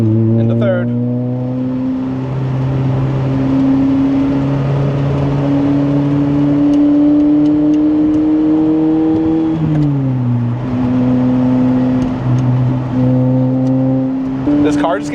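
A Lotus Elise engine revs up loudly through the gears, its pitch climbing steadily, dropping at a shift, then climbing again, with a driver talking over it.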